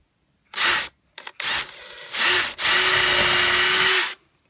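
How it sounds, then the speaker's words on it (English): A power drill boring holes in wood whirs in a few bursts, short spins then one longer run, close and loud with brief silences between. "drill these out."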